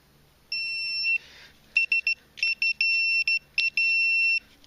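Outdoors in Dorset, a Stafford metal detector sounds a loud, steady electronic tone, then breaks into a run of short, choppy beeps that end in another sustained tone, with no talk over it.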